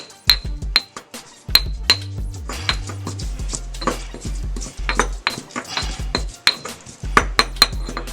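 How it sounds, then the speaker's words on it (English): Ingredients for an Asian-inspired red snapper being pounded in a kitchen: a steady run of sharp, close knocks and clinks, irregular but continuous, with metallic and ceramic ringing and no talking. "I'm just going to pound these"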